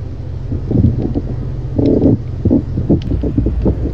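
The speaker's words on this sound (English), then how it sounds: "Yeah, this massive bird. Listen to them engines." The Bristol Brabazon airliner's engines in Flight Simulator X give a low, droning rumble that swells and pulses unevenly over a few seconds.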